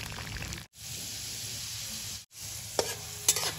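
Puffed chana roasts in a pan over low to medium heat for a ridge gourd curry. A quiet, steady sizzle is cut by two brief silent gaps, and a couple of light spatula taps come near the end.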